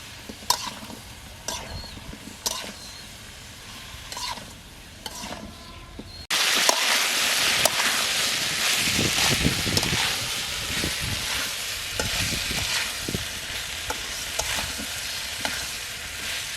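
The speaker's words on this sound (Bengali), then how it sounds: "সবজি অর্ধেক ভাজা হয়েছে।" Mixed winter vegetables fry in a pan for khichuri, seasoned with salt and turmeric, a steady close sizzle with repeated scraping stirs that swells louder partway through and continues without talk.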